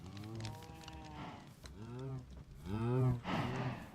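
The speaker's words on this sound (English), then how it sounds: "Holy moly, look at all the cows." Cattle on a Minecraft farm moo repeatedly in long, overlapping calls, loud and close, with several cows lowing one after another and no talk over them.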